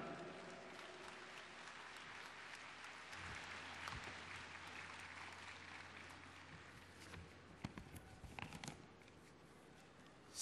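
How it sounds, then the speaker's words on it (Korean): Applause from a large conference audience welcoming a chairman to the stage, a soft, distant, steady patter of clapping lasting about ten seconds, with scattered louder bursts and a few footsteps near the end. "여러분 나오실 때 큰 박수로 환영해 주시면 감사하겠습니다"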